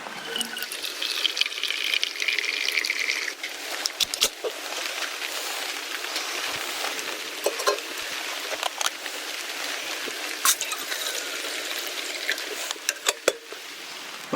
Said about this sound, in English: The rain has started again, and it sounds a little more like freezing rain to me.